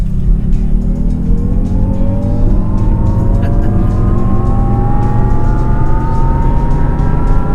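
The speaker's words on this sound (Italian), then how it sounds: "sento solo il rumore del rotolamento dei pneumatici" Steady low road roar of Jaguar I-Pace tires rolling on pavement, continuous and loud, with electric motor tones slowly rising underneath as the car gathers speed.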